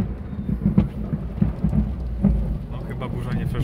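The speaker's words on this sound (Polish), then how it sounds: "No chyba burza nie przeszła jeszcze." Thunderstorm with heavy rain hissing steadily and low rumbles of thunder rolling underneath, loud and close throughout.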